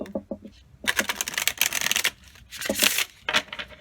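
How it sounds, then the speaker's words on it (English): A deck of chakra oracle cards being riffled and shuffled in several quick bursts, crisp flapping rattles separated by short pauses, close up. "Let's give it a shuffle"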